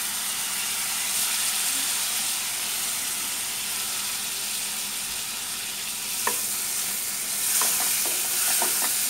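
Tomatoes and green chilies frying in a pan with turmeric and no oil, a steady close sizzle and hiss with occasional stirring scrapes toward the end.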